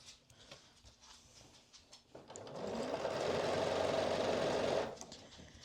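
A domestic sewing machine stitches a seam on a vest. Light handling clicks come first, then the motor runs steadily and close for a few seconds before stopping.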